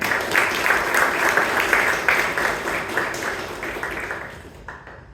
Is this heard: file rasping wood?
no